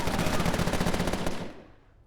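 Rapid automatic gunfire from the video game Empire of Sin, a loud, dense burst of closely spaced shots lasting over a second before tailing off into a brief decay.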